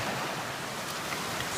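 Creek water running along the Kimsey Creek Trail, where the path turns partly into stream; a steady, dense rushing wash of water with no voices, continuous and fairly close throughout.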